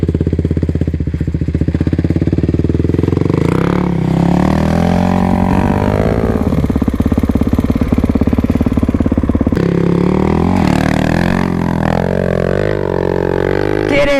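A motorcycle held in first gear on a steep hillclimb, its engine revving loud and close throughout with rising and falling pitch, no talk over it.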